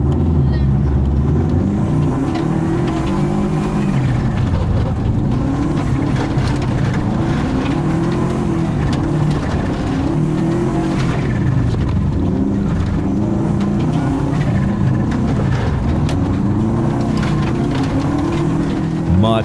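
An all-wheel drive race car in a race runs its engine loud and continuous throughout, a steady roar with harmonic bands rising and falling as it revs through corners, with a voice talking over it.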